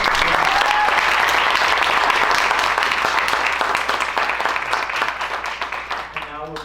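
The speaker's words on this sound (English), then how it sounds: "One more round of applause" Audience at an annual Italian scholarships and awards ceremony gives another round of applause: loud, dense clapping throughout that gradually tapers off, with a voice beginning to speak at the end.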